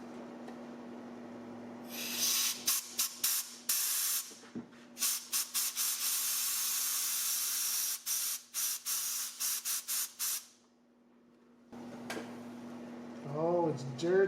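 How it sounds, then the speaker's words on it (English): Cleaner sprayed into the idle passage of a dirty Toyota 22R carburetor, coming as several loud hissing bursts and short squirts of varying length with brief gaps, over a faint steady hum. "Looks like that's our idle passage right there. Let's give it a little squirt."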